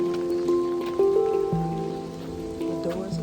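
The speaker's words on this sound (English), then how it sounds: "It's raining, it's cold." Steady rain falls outside a church in the Azores on a cold day, a continuous close patter with sustained tones layered over it.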